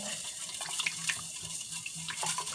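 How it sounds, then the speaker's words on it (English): Rose mineral rocks dissolve in hot water with a steady close fizz and hiss, plus small crackling pops and faint sloshing throughout. "You can hear the rocks dissolving-ish into the hot water."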